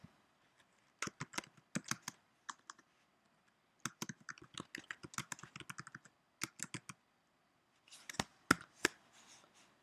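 Quick clusters of key presses on a computer keyboard while text is entered in an animation tool, sharp close clicks in irregular bursts separated by short pauses, otherwise quiet.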